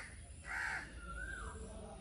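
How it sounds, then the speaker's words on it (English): Crows cawing outdoors, a faint harsh call followed by a second drawn-out caw against quiet background hiss. "You can hear the birds."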